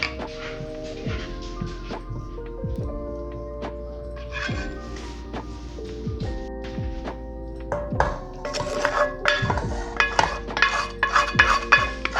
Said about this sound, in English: And now this is all going inside of the pressure cooker, oil and all.